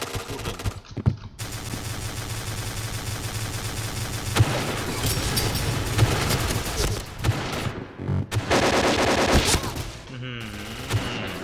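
An AK-12 assault rifle fires in the Point Blank video game, with long rapid automatic bursts broken by brief pauses, loud and close, while game sounds and some voice run underneath.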